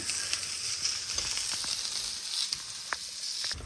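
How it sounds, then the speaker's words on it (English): Sausages and puddings fry in a pan for an Irish breakfast fry-up, giving a steady close sizzle with occasional small pops and crackles and no one talking. "So the sausages are browning up nicely."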